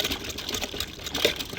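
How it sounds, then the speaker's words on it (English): Munzinzila fruit swirled by hand in a pot of warm water, soft irregular sloshing and liquid swishes close by, quiet and repetitive. "and I'll keep on stirring"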